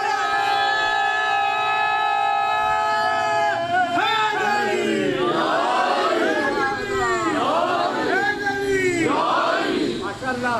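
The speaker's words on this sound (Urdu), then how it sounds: "مدینہ کالونی سے نجف اشرف تک اپنے نعرے کی آواز پہنچائیں" A large crowd at a 9 Muharram majlis shouts a religious slogan in unison, loud and swelling in several rising waves after a sustained tonal intro, voices merging into a roaring chant.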